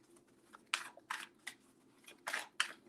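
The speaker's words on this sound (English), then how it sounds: "Let me just shuffle them really quick" Tarot cards shuffled by hand up close, a series of several short, crisp papery bursts at an uneven rhythm against a quiet background.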